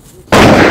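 A single loud, close gunshot in a comedic redneck-themed video game, a sudden sharp blast that cuts in after a quiet moment and rings on briefly.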